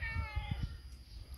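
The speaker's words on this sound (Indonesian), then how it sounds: "Kucing." A cat meows nearby in a kitchen where food made from coconut-oil dregs is being eaten, a few short cries in the first half second, then quieter room noise.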